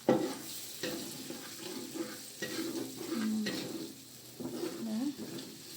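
Catfish pieces frying with garlic powder in a pan over lowered heat, stirred in repeated scraping passes that run under a steady sizzle at close range.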